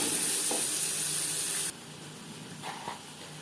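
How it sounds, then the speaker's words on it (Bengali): Turmeric powder and salt sizzling while being lightly fried in a pan, a steady loud hiss for the first half that then drops to a softer sizzle with a couple of faint clinks and stirring sounds. "সামান্য পরিমাণে হলুদের গুঁড়ো, স্বাদ মতো লবণ, হালকা করে ভেজে নেব।"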